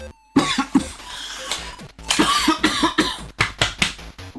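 A man coughs in a rapid series of harsh, loud bursts, pausing briefly between fits and then starting again, close to the microphone with no talk in between.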